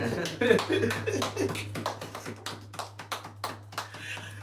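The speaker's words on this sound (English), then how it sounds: "Round of applause." A few people in a casual smoke-session podcast room give a short round of applause: sharp, separate claps repeating at a loose rhythm, close and fairly quiet over a steady low hum.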